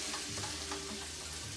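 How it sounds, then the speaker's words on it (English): Ginger fries in a pan for a General Tso's sauce, giving off a steady, close sizzle and crackle with a low hum underneath and no talking. "So we're gonna put the ginger in first. Let that fry up for a few seconds."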